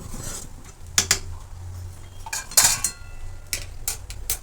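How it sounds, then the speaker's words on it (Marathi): Sabudana khichdi being stirred in a pan, a Maharashtrian dish: a spoon scrapes and clinks against metal in a few sharp bursts, with quieter scraping and a low hum between them. "सगळीकडून आपण व्यवस्थित मिक्स करून घेणार आहोत"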